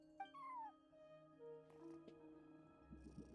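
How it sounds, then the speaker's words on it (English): A cat meows at a front desk in the video game Genshin Impact, a short rising-falling call heard up close over soft game music. "No one except for a cat watching over the front desk."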